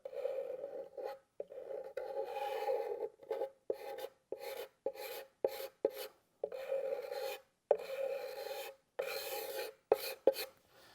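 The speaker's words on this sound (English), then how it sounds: "my usual solution instead is to grab a metal card scraper" A metal card scraper is drawn in short rasping strokes across dried finish drips on a wooden door, each pass a brief scratchy burst separated by pauses, close and fairly quiet.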